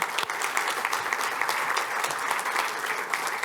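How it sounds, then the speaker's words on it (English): Applause from an audience at an MIT talks event, a dense steady wash of many hands clapping alone for several seconds at moderate level. "A big round of applause for both of them."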